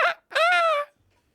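A person imitates bird calls with their voice, two cawing, wailing cries in quick succession, the second longer and tonal, close to the microphone.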